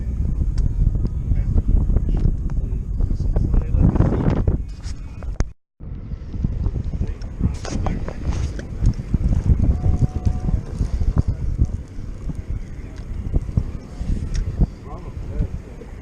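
Strong, gusty wind buffets the microphone on a fishing boat out on a rough Chesapeake Bay, a loud continuous roar with boat and water noise that drops out briefly once, with voices talking faintly beneath.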